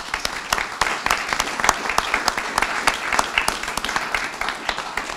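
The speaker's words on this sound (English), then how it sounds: "Let's give her a round of applause." Audience applauding at a foster care bill signing, a steady wash of hand claps with sharp individual claps standing out, sustained and fairly close throughout.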